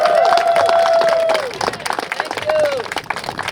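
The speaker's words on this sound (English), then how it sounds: "So please, again, a round of applause for the Honorable Cori Bush." A crowd at a Housing NOW rally applauds and cheers, with a loud whoop rising over the clapping before the noise thins into scattered claps and voices.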